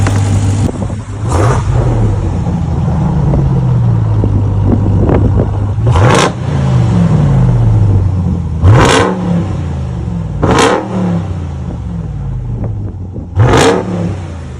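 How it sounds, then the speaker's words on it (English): A Ford Raptor pickup truck's engine revs repeatedly, with several sharp throttle blips rising and falling over a loud, deep idle rumble, close to the listener. "That's how a truck should sound."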